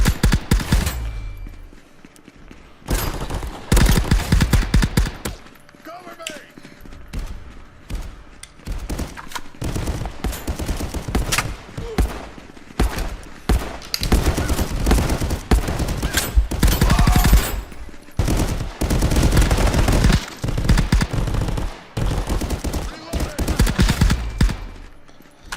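Rapid bursts of gunfire from a VR shooting mission game, loud volleys and machine-gun fusillades repeating in clusters across the whole stretch, with brief quiet gaps between bursts and a player's voice occasionally over them.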